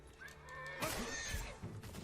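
A white horse lets out a short, loud whinny in the game Ghost of Tsushima, a breathy rising-and-falling neigh with faint hoof sounds around it in an outdoor village setting.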